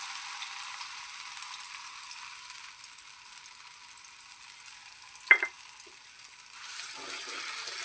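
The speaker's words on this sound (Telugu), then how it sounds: "ఇప్పుడు ఈ పేస్ట్ మొత్తం ఇందులో వేసుకొని ఫ్రై చేసుకోవాలి." Amla paste frying in hot ghee with jaggery, a faint, steady sizzle with a brief clink of a spoon stirring partway through, quiet and close.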